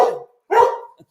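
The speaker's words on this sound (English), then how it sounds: "This is Steve's border collie puppy." A border collie puppy gives two sharp, close barks, a short yap followed by a fuller bark with a brief pause between, in an outdoor farm setting.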